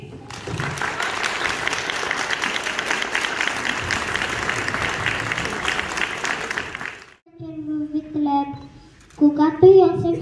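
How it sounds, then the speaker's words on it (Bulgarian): An audience at a school performance gives a burst of loud, dense applause for about seven seconds. A voice follows in the quiet afterward. "Моля аплодисменти!"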